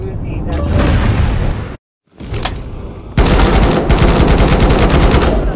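Rapid bursts of Uzi fire in the shooter game Marauders crackle loudly, broken by a brief silent gap before a sustained, dense volley, with voices talking in between.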